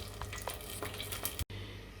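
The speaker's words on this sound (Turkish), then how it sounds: "Şöyle güzel güzel kızartıyorum." Steady sizzling of börek pastries frying in a pan with oil crackling and small pops, broken by a brief dropout near the end.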